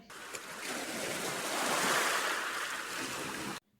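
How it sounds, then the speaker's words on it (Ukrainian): Sea waves wash and surge in a broad, steady hiss of surf that builds gently and then stops suddenly, with no voices present. "море,"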